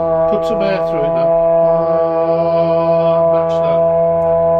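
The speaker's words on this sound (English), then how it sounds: "listen very carefully against the drone as you play against the drone." A sustained brass instrument note held steadily against a continuous drone tone, loud and even throughout, with the pitch settling onto the drone during a beginner brass lesson.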